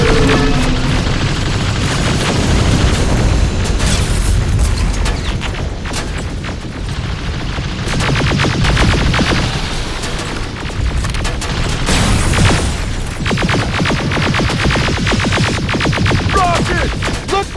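Heavy, continuous booms and blasts from a rocket explosion in the Terminator Resistance video game, loud and dense throughout with layered bursts and rumbling debris, no speech.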